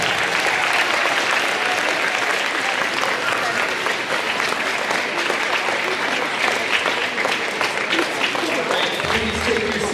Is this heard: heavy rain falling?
no